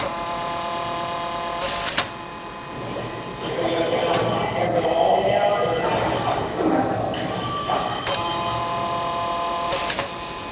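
A FlexArm tapping arm threads holes at about 500 RPM, giving a steady close mechanical whir with a whining tone that rises as the tap drives in and out, amid shop noise.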